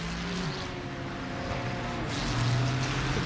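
The engine of a Mediki Motorsport Mustang GT4 race car in a GT4 Australia sim racing game, a low, grunting drone whose pitch steps up and down with gear changes, loud and continuous under a rushing roar.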